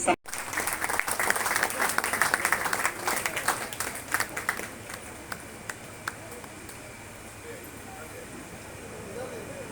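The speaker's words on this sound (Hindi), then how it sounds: "और पुरुषों की ओर से ज्यादा तालियां आनी चाहिए।" An audience applauds at a public event, with dense clapping that is loud at first and gradually thins out into scattered claps, leaving a quieter room with murmuring voices.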